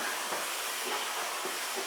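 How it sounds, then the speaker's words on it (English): A Black and Decker FSMH13E5 steam mop cleaning floors with water and steam gives a steady, even hiss throughout, faint and constant, with slight pulsing swishes as the head moves. "Disinfecting and cleaning the floors with just water and steam."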